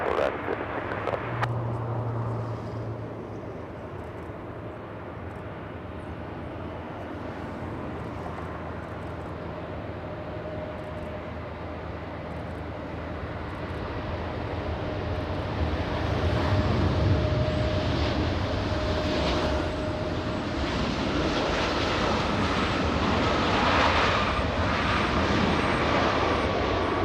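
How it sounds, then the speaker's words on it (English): A Boeing 767 jet on approach to land at LAX: a distant engine rumble slowly builds and swells louder toward the end, with a faint steady whine and a voice speaking early on. "And here comes the 767."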